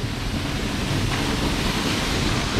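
Dense, roaring rush of a waterfall crashing down fills everything evenly, loud and close, with no pauses or voices.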